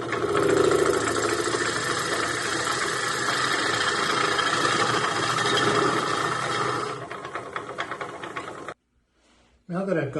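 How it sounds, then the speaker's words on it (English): Steel gouge cutting into a spinning wooden blank on a lathe while turning a candy dish, a loud steady rough whirring that runs for about seven seconds, then tapers off and cuts out near the end. "Start off by riding the bevel and then turning the gouge into the wood"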